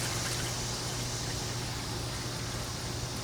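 About a gallon of water pouring steadily into the tank of a Ryobi sprayer, a continuous close, soft gushing fill with no talk.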